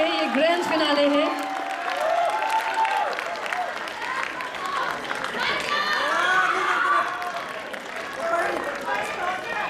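Audience applause and cheering at the grand finale of a talent show, with a host's voice and crowd noise layered over steady clapping throughout.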